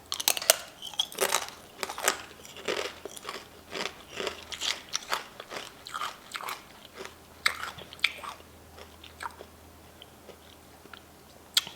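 Korean dalgona honeycomb candy is chewed close to the mouth with loud, irregular crunches and crackles, steady bites repeating without talk.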